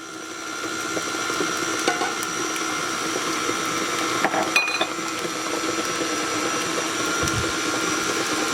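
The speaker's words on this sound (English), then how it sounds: "Now I have my mixer turned on low." An electric hand mixer runs on low speed, whipping cream for a cinnamon pie. It gives a steady, moderately loud whirring hum with a few faint clatters against the bowl, and there is no talking.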